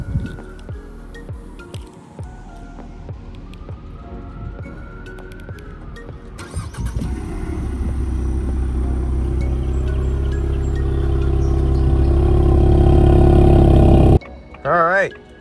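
A 2024 Ford Mustang S650 EcoBoost pulls away from rest, its engine building to a steady, rising drone of cabin road noise after a few scattered clicks and rustles, with a voice speaking briefly near the end.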